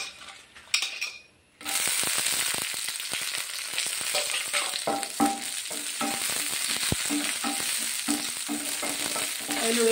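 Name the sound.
dried red chillies frying in a pan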